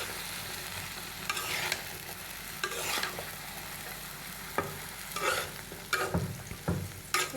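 Vegetables frying in a pan with turmeric: a steady soft sizzle throughout, broken by several sharp scraping and stirring bursts that come louder toward the end.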